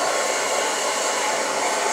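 A hair blow dryer runs steadily at close range, giving a continuous even airflow hiss and motor whir with no talking.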